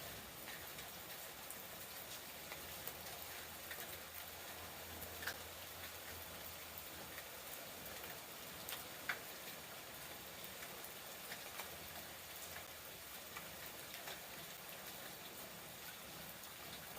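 Steady rain falling outdoors on a morning, a continuous soft broadband hiss with occasional sharper drip taps, fairly quiet and even throughout, with no voices.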